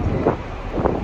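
Wind buffets the open deck of a ferry crossing from Normandy to England, a loud, close rush of microphone-battering gusts with two stronger bursts and no speech.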